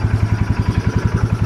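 Polaris Sportsman 570 ATV engine running with an RJWC aftermarket exhaust, a deep, steady low thumping pulse repeating rapidly and evenly, close and loud with no talk over it.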